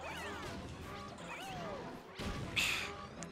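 Boss hands shattering in Super Mario Galaxy, a bright smashing crash with a glassy burst near the end, heard over busy game music and effects.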